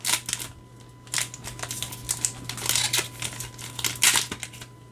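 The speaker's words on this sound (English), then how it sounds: "Packs are a little hard to open when there's 12 cards in them" Foil wrappers on Final Fantasy trading card packs with twelve cards each are torn and peeled open by hand, producing close, irregular crinkles and crackles in short bursts with quiet gaps.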